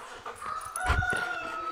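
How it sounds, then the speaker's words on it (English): A recorded chicken plays back from a Google smart speaker: a rooster's crowing call rises and holds over about a second, with a few short clucks around it, fairly close and clear with no talk over it. "A chicken sounds like this."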